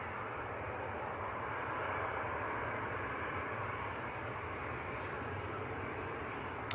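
A Boeing 737-800 at Manchester Airport gives off a steady, fairly distant jet engine roar with a broad hissing rush that stays even for several seconds.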